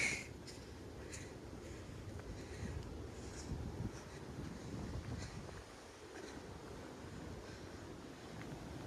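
Sea waves at Mirissa Secret Beach in Sri Lanka, a steady low wash of surf mixed with wind buffeting the microphone, continuous and moderately faint, with no voices.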